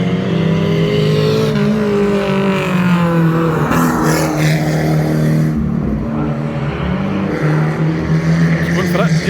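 Stock cars, including a Mark 1 Ford Mondeo, racing at Cowdenbeath, their engines droning loudly and continuously with rising and falling revs as they circle the track, under a commentator's voice.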